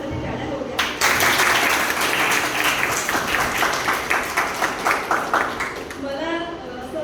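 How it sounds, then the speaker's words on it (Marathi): Audience applause fills the room for a guest at an event, steady dense clapping from about one second on, loud and sustained, with rhythmic claps standing out near the end. "तर याच्यावर सरांसाठी टाळ्या होऊ द्या."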